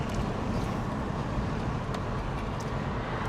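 Steady road and tyre roar inside a Mercedes CLS driven with the roof open on a sunny day, a constant broadband rumble with no breaks and no voices over it.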